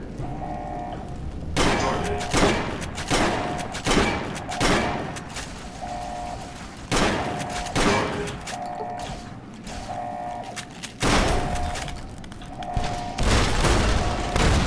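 Repeated missile launcher explosions in Fallout New Vegas fired indoors, a rapid string of loud booming blasts with rattling mechanical clatter between them, a steady electronic tone humming underneath.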